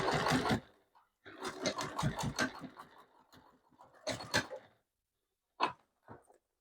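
A sewing machine double-stitches and reverse-stitches a duffle bag in several quick, close bursts of rapid needle clatter separated by short pauses, ending with two brief final spurts.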